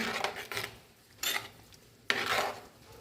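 Mango pulissery curry with ghee and water stirred in a pot: a spoon rubs and scrapes against the pot in a few uneven strokes, close by, with brief gaps between them and no talking.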